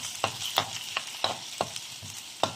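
Finely sliced ginger sautés in hot oil in a pan, a soft sizzle broken by about six sharp stirring scrapes at uneven intervals, close by.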